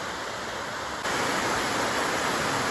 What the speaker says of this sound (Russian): У каждого из этих водопадов есть свое название